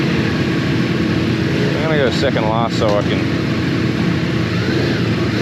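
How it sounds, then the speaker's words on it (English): A steady Ducati Multistrada V4 motorcycle engine drone runs throughout while someone talks over it. "Oh, that engine sounds good."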